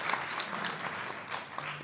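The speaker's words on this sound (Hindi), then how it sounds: "उनके लिए भी एक बार जोरदार तालियां आप सभी की तरफ से चाहूँगा।" Audience clapping in a hall, a brief, steady burst of many hands at moderate volume, continuous through the moment.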